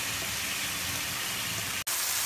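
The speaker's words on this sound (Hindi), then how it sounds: "फिर भी ऐसे गोल्डन ब्राउन होने तक फ्राई करेंगे" Chicken pieces fry in oil until golden brown, giving a steady, dense sizzling hiss throughout, cut by one brief dropout near the end.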